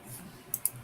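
Two sharp, faint mouse clicks in quick succession, set against a quiet room hum with no one speaking.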